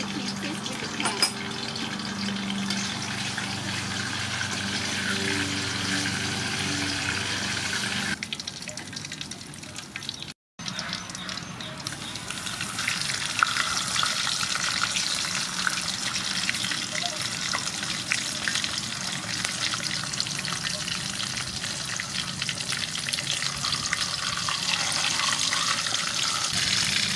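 Fish fries in hot soybean oil in a pan with a strong, steady crackling sizzle that runs throughout, interrupted by a brief pause partway through before the frying resumes louder and denser.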